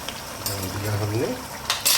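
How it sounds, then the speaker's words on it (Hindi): Chicken and fried potatoes being stirred in a biryani pot, giving a steady close sizzle with soft scraping, while a voice speaks briefly over it. "थोड़ा सा इसको हम घुमा देंगे ताकि आलू भी इसके साथ थोड़ा सा पक जाए"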